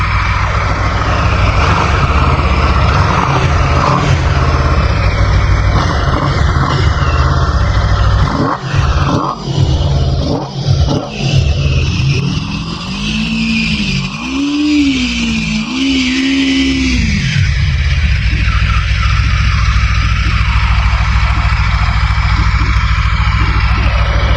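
An Aprilia RSV4 Factory 1100 motorcycle engine idles at about 1200 RPM, a loud, steady, close rumble that wavers briefly in the middle before settling back to an even drone.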